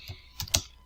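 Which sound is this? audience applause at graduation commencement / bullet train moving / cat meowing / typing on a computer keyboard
typing on a computer keyboard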